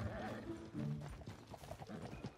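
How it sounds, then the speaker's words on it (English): Horse in the online video game Red Dead Redemption, hooves clip-clopping and a brief whinny, quiet and low under players' chatter. "Tundo, do you have another horse?"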